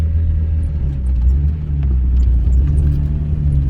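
A car, a Mercedes, climbs a mountain road, its engine a steady low rumble with road noise throughout, close and continuous with no talk.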